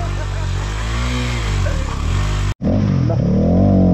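A motorcycle ridden on a short ride between Tanting and Karpu Dada, its engine loud and close with a steady droning note that rises and falls with the throttle, broken by a sudden brief cut before continuing.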